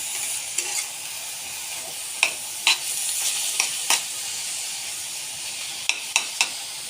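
Crackling sizzle of okra frying in hot oil, steady and close, with scattered sharp pops and scraping stirs throughout.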